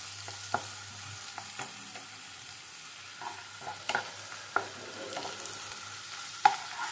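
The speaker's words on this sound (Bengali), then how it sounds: "পেঁয়াজটাও ফ্রাই হয়ে যাবে যেটুকু কাঁচা আছে, আর এদিকে মশলাটাও কষে যাবে" Onion with ginger-garlic paste and spice masala stir-fried in a pan, a steady soft sizzle broken by scattered scraping clicks of a spatula across the pan, fairly quiet and close.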